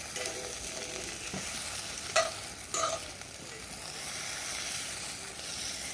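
Cheesy eggs frying on a rocket stove, scraped and mixed with a fork, give a steady close sizzle with a couple of brief louder scrapes partway through.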